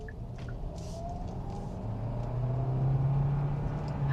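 A Kia Sorento PHEV engine hums from inside the car, a low, steady drone that swells gradually as it builds, with faint road noise beneath.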